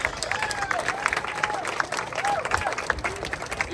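Applause from the crowd at a charity ride raising awareness for pancreatic cancer, a dense steady patter of clapping with some cheering mixed in, fairly loud and close throughout.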